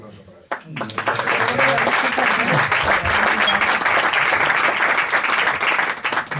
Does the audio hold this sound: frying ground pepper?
no